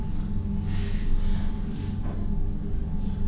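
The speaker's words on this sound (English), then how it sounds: "Cricket." A cricket chirps inside a classroom, a steady high-pitched trill running continuously beneath faint room noise and low hum, moderately loud and fairly near.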